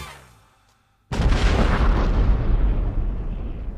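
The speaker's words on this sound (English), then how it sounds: "A bombshell." A bombshell explodes with a sudden loud, close blast that rolls into a long roaring rumble lasting several seconds, after a brief quiet lull.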